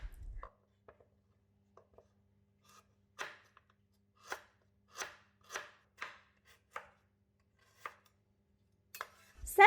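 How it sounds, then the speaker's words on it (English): A knife roughly chopping lemongrass and galangal on a board for Thai green curry paste: separate, crisp chops in an uneven rhythm, close and clear against a quiet room, with a few light taps in between. "Then, cut the lemongrass roughly"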